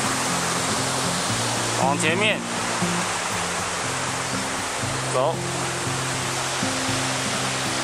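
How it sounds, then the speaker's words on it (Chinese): A small mountain stream flows under the No. 4 bridge on the trail up Zhijiayang Mountain, a steady close rushing wash of water that fills the clip, with a few brief spoken words over it. "这是四号桥的，四号桥有一个小溪流"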